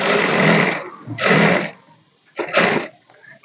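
Sewing machine running in three separate bursts while stitching the side seam of a blouse, each run lasting under a second with short pauses between, close and fairly loud with no talking.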